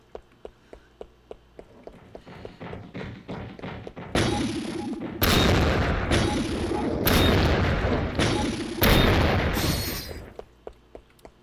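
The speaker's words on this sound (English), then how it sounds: "The hover bomb. It's a bomb that hovers." Hover bomb explosions in Ratchet & Clank crash in a loud burst of heavy booms and thuds, framed by quick rhythmic ticking beeps before and after the blasts.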